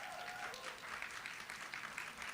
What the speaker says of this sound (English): I'll give everyone a round of applause